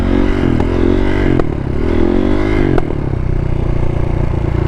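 Stunt motorcycle ridden in second gear while practicing scrapes: a loud, close engine drone that rises and falls in pitch across the gear, with a couple of sharp clacks, and no talk.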